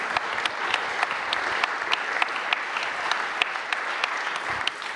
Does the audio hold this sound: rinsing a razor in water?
no